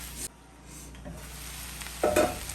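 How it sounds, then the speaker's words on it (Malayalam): Chicken roll filling stirred in a pan, a soft low background sizzle with a couple of brief scraping strokes, the loudest coming near the end. "ഇനി നമുക്ക് ഒന്ന് നല്ലവണ്ണം മിക്സ് ചെയ്ത് യോജിപ്പിക്കാം"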